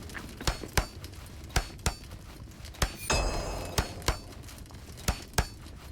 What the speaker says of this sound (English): I've made enough noise with my hammer.